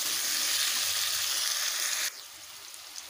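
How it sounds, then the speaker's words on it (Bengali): Potatoes and carrots fry together in a pan with a steady, close hiss that drops abruptly to a softer sizzle partway through. "আমি এক্সট্রা করে আলু গাজরটাকে ভেজে নেব না, একসঙ্গেই ভেজে নেব।"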